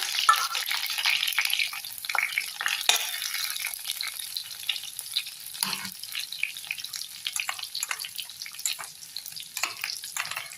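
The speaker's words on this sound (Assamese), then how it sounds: "পিঁয়াজখন ভাজি লওঁ।" Onion fries in a pan with a sizzle that crackles unevenly, with a few stirring clatters and a faint watery hiss underneath.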